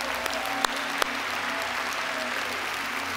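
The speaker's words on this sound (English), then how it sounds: "let's give them a hand there." A church congregation applauds, dense sustained clapping filling the room evenly at moderate loudness, with a couple of sharper close claps popping out near the start.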